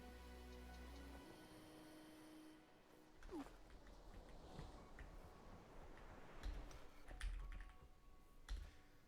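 Loud computer keyboard being mashed hard, with irregular clacking keystrokes and a few heavier bursts, close and fairly steady over background noise without speech.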